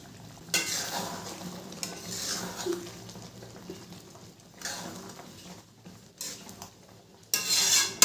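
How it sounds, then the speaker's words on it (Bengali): Egg korma is stirred in a pan, a spoon scraping and rubbing against the metal in irregular bursts over a soft sizzle, with louder clatters near the start and end. "ভালো করে মিশিয়ে নেব।"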